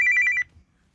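A shipboard telephone on a cruise ship rings with a brief electronic trill of rapid pulses that stops abruptly after under half a second, close and clear, with no speech.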